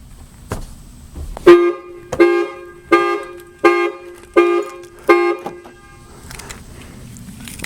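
A Ford Mustang GT car alarm blares in a steady repeating pattern of loud honks, about six evenly spaced blasts, close and without talking.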